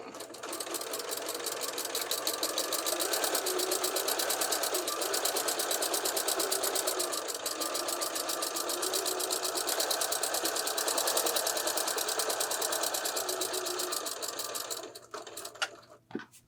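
A sewing machine stitching quilt block pieces runs in a fast, steady mechanical rattle, loud and close, for most of the stretch before slowing and stopping near the end, with no talking.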